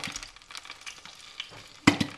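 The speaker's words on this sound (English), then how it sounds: "Just going to let the oil heat up for a minute, and then we're going to pop these tomatoes in there." Plum tomatoes drop into hot oil in a pan for a Pasta alla Norma sauce, crackling softly and then bursting into a sharp, louder sizzle near the end, close up with no talking.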